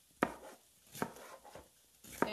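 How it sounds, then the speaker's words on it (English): A sharp German-steel Forge cutlery knife slices a sweet potato into strips on a board, giving four crisp, evenly spaced chops close by with quiet pauses between them. "we're going to do some strips. Make sure you have a great sharp knife."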